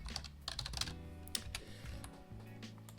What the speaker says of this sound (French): on tape l'adresse mail en question